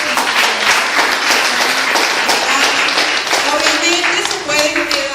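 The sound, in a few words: audience applause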